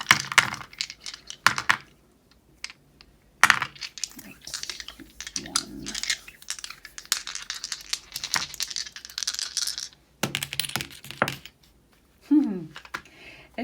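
Three dice rattle and tumble across a surface during a tarot reading with charms, giving a string of close, sharp clicks and clatters with quieter gaps between them.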